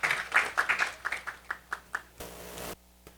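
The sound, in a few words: audience applause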